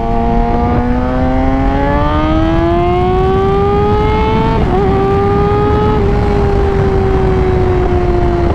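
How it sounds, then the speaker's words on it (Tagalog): A Kawasaki Ninja 636cc sports bike is ridden, its engine note loud and close, climbing gradually through the revs, dipping briefly at a shift, then easing lower, with heavy wind rush throughout. "Hindi rin naman kasi biro yung dinadrive natin, 636cc sports bike."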